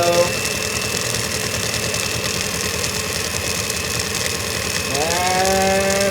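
An electric mixer runs steadily, beating flour into chocolate chip cookie dough in a bowl, a continuous motor drone with a pitch shift near the end.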